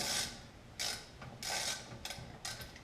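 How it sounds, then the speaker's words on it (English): A ratchet clicks in short bursts while loosening the rear brake caliper bolts on a Kia Spectra, several quick ratcheting runs up close with brief gaps between them. "you're going to start by removing the two caliper bolts"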